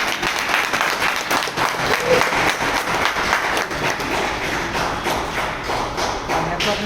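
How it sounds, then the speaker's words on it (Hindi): A crowd at a network team gathering in Mumbai claps loudly and steadily, a dense continuous applause with some thumping and taps mixed in, lasting the whole stretch without pause. "एक जोरदार ताली हो जाए"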